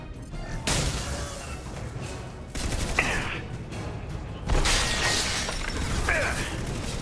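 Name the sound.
enemy boss firing its arm weapon, from video game Mass Effect 2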